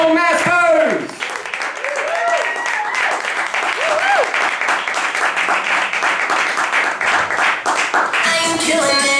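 A crowd gives a loud, sustained round of applause for Battlemasters, with many hands clapping steadily for several seconds and voices whooping and cheering near the start and the end.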